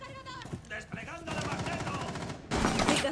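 Gunfire crackles in a ranked Rainbow Six Siege match, with short bursts and a loud, dense volley near the end, while voices are heard in places.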